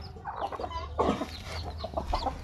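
A large hen that has lost an eye clucks softly on a farm, with repeated low clucks and a few louder calls close by, no voices.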